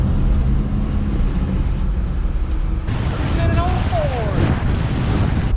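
A 1978 Ford F100 truck cruises along with a constant loud, low rumble under heavy wind buffeting, plus a few faint high tones partway through.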